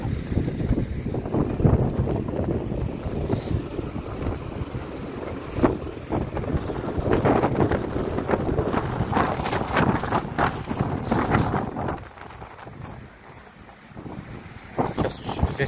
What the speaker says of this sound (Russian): Все метет, все, что есть, все в воздухе. Ветер поднял.